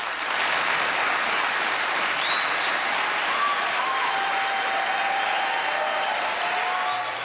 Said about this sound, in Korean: 터져나온 박수에 당황한 트럼프 후보는 한 발 물러섭니다.